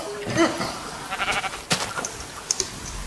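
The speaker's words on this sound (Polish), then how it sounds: "Ty, te owce jedzą trawę." Sheep bleat in a Minecraft jungle survival game with short, nasal cries over a low game background.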